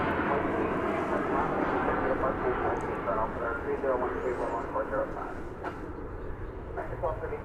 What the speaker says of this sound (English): You are about to see Flight 3779 arriving from Brownsville, Texas.